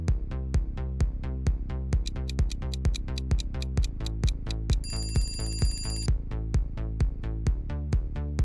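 Telephone ringing as a quiz sound effect, a fast continuous run of regular electronic bell pulses with a brighter chime layered briefly in the middle, loud and without speech.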